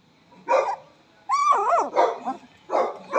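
Puppies let out short, sharp barks and high yips in three bursts, with a rising, wavering whimper in the middle, close and clear against a quiet background.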